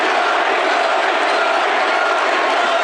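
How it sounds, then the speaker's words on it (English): A large crowd cheers and roars in a steady, dense wall of sound at a Republican presidential campaign event, sustained loudly throughout without a break. "They're cheering an environmentalist."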